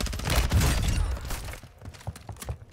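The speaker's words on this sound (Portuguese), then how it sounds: "Olha, isso é tiro, viu?" Gunfire in Call of Duty: Warzone 2.0, a loud burst of rapid shots up front that fades into scattered, sharper single cracks at mid distance.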